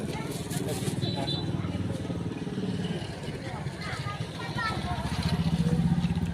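Motorcycles rumble past on a crowded street, their engines blending with the steady babble of a dense crowd, fairly close and continuous.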